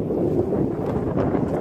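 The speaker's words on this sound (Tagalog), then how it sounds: "Sensya na kayo, mahangin masyado." Steady wind across a farm field buffets the microphone, a constant low roar with no pauses throughout.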